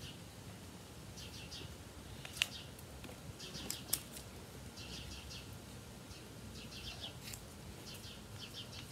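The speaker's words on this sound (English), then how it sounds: "You can hear the birds chirping." Faint bird chirps in short clusters over a steady outdoor hiss, scattered irregularly and somewhat distant.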